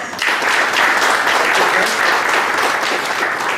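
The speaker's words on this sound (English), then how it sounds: "Please thank them with a round of applause." A seminar audience on audit reporting gives a sustained, full round of applause thanking the presenters, dense and steady from start to finish with no talk over it.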